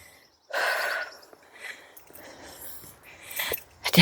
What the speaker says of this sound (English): Now I'm breathing heavy.